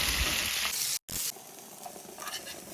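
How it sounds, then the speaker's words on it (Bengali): Fish pieces frying in hot oil in a pan, a steady loud sizzle with a brief dropout, then a softer ongoing crackle. "বাকি মাছগুলো এই তেলের মধ্যে ভালো করে ভেজে নেব"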